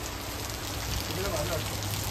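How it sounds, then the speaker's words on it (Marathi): Heavy rain pours down in a continuous, loud hiss of drops striking surfaces, steady and close with no break. "मित्रांनो एकदम पाऊस एकदम खतरनाक पडतोय"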